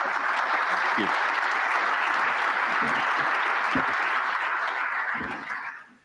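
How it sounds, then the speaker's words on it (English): Sustained applause from a conference audience on security, a thick even roar of many hands clapping that holds steady before tapering off at the close. "I hope that's not the last bit of applause that I get"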